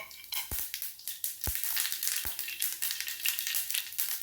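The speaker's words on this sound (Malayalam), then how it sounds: "കടുക് പൊട്ടട്ടെ" Mustard seeds splutter and pop in hot oil in a home kitchen, a steady close sizzle crackling throughout, broken by a few sharp, louder pops near the start.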